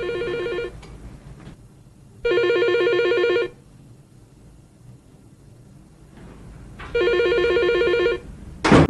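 A telephone in a film scene rings in three separate bursts of bright, trilling bell tones, each about a second long, with quiet pauses between them.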